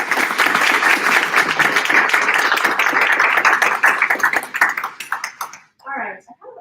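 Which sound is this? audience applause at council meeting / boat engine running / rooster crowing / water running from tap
audience applause at council meeting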